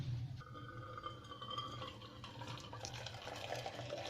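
Water for Kashmiri chai being strained into a wide open pot, a steady trickling, splashing pour with faint clinks of metal, close and continuous throughout.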